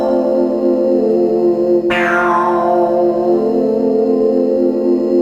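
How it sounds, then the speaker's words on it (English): Sustained synth chord on a Synthstrom Deluge groovebox, passed through its chorus effect; a bright swept shimmer enters about two seconds in and the wide, gently wavering tone holds steady and loud to the end, with no voices. "Let's hear the chorus."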